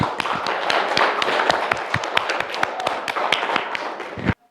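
A classroom of students clapping together, a close run of sharp, fairly regular hand claps with a slightly uneven rhythm that cuts off abruptly into silence.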